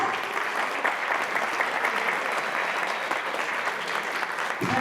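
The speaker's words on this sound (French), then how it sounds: "je vous demande d'applaudir très fort" A crowd at an outdoor commemoration ceremony in a French town claps loudly and steadily, a dense continuous round of applause that stops abruptly at the end.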